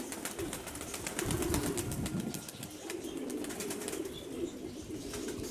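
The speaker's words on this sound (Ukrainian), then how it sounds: "Тут ганяємо голубів." Young Mykolaiv pigeons out on a training flight: rapid wing flaps clatter in repeated bursts close by, with low cooing running steadily underneath.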